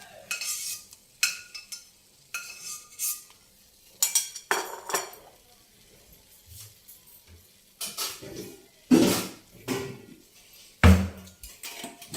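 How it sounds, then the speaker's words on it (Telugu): Fried vadiyalu, sun-dried lentil fritters, lifted out of a pan of oil with a metal utensil: scattered scraping and clinking strokes against the pan, separated by quiet gaps with a faint sizzle beneath. "వేగిపోయాయండి, వడియాలు తీసేద్దాం."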